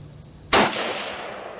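A single sharp gunshot from a Savage Scout Rifle fitted with a muzzle brake, a loud crack followed by a short rolling outdoor echo that fades over about a second.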